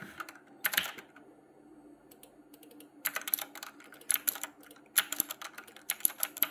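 Numbers typed on a computer keyboard in several quick bursts of close, crisp key clicks separated by short pauses, with no talking.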